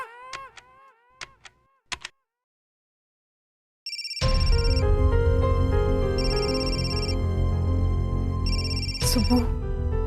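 A telephone rings on and off without being answered, loud repeated electronic trills in regular bursts, after a few short tonal chirps and a moment of silence.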